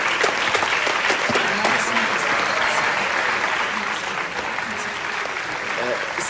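A courtroom audience applauds a lawyer, dense continuous clapping from a sizable crowd that stays loud and even throughout, with some voices mixed in.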